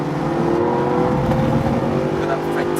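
A Mercedes-AMG GT safety car's engine accelerates with a loud, sustained roar that holds steady across the whole stretch, heard close up from the cabin while someone talks over it.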